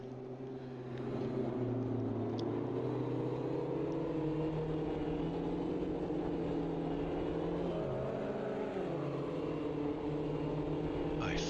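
Mini race cars in Automobilista 2 on the Virginia International circuit at sunset, engines droning steadily close together with rising and falling pitch as they push through a series of bends on the last lap.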